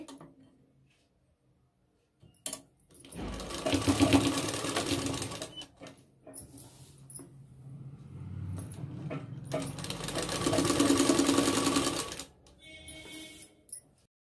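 Sewing machine double stitching the shoulder seam of a cold shoulder sleeve, running in two long bursts of rapid stitching with quieter mechanical clicks and handling between them, close by.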